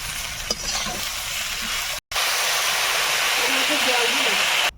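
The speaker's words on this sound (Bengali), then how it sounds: "এবারে ভাজা বেগুনটা দেবো এর মধ্যে আর একটু নেড়ে চেড়ে মিশিয়ে ভেজে নিয়ে জল দিয়ে দেবো" Fried potato and brinjal sizzle loudly in a pan while they are stirred, with a continuous hissing fry, scraping stir strokes and a short break in the middle, and a voice speaks over part of it.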